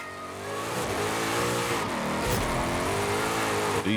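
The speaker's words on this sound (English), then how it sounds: "This is also one of those cars with a nice supercharger sound." A supercharged drift car in Forza Horizon 5 revs and accelerates continuously, its pitch rising and falling, with a supercharger whine layered over the steady roar.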